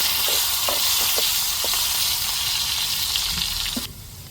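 Sliced onions hit hot oil with mustard seeds and fenugreek while a fish curry tempering is made, giving a loud, steady sizzle with a few sharp crackles and pops. The sizzle fades slightly near the end.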